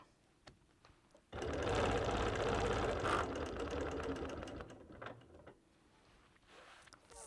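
Sunbeam sewing machine stitching a quilt, a steady loud mechanical whir running for about four seconds before tapering off, with quieter handling noises around it.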